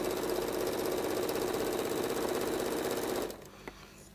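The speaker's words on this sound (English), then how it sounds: "stitch right to that corner, leave your pin in and pivot" A sewing machine stitches a quilt's mitred binding, running in a steady rapid whirring rattle for about three seconds, then stopping, followed by faint handling clicks.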